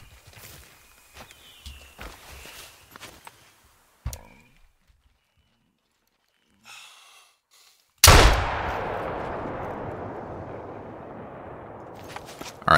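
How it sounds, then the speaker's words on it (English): An elephant gun fires a single loud, close shot while hunting small game, and a long rumbling echo trails away after it. Quiet rustling and footsteps come before the shot. "I guess we just gotta take a shot at this guy."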